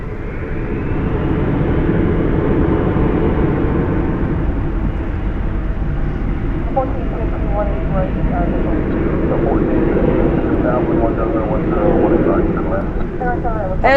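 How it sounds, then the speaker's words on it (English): At night at Dallas/Fort Worth, an Envoy Embraer E175 jet produces a sustained, loud, low engine rumble throughout, while someone talks over it. "This is Envoy flight 3425 off to Fort Wayne and E175 LR."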